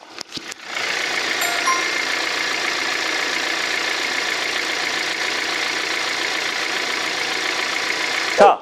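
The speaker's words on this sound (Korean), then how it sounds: "이렇게 엔진룸 열어봤고요 엔진 소리 한번 들려드릴게요" A Hyundai Grandeur IG sedan idling with its engine bay open, a steady, even hum held close and loud for several seconds after a brief start, with a short knock near the end.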